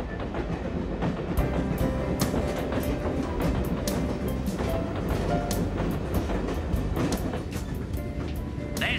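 An animated cartoon local passenger train rumbles along steadily, wheels clacking over rail joints in a continuous, fairly loud rhythm with a dense low roar underneath.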